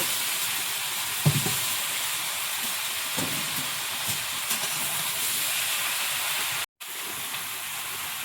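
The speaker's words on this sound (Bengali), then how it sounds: "এবার একটু ভালো করে নেড়ে চেড়ে ভেজে নিতে হবে" Malabar spinach and potatoes stir-fry in a pan with a continuous, even sizzle. A few soft knocks and scrapes come from turning the greens, and a short dropout falls near the end. No voices.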